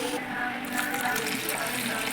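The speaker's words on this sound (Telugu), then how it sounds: "ఇలా వాటర్ వేసుకొని కడగనివ్వాలి మంచిగా." Water pours steadily into a bowl of fried dried silver prawns to wash them, a continuous close splashing gush that runs at an even level throughout.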